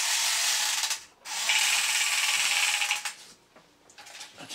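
Motor of a remote control Aston Martin ejector car, a Bond-style toy, whirs loudly and close with a ratcheting mechanical buzz, briefly stopping, then running again before trailing off into small clicks and rattles.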